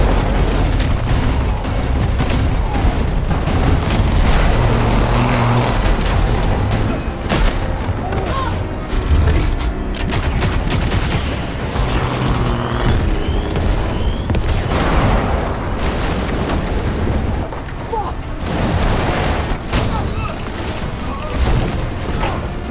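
Heavy bursts of gunfire and booming impacts during a car chase in an action film, loud and dense, crackling in rapid volleys over roaring engines for most of the stretch.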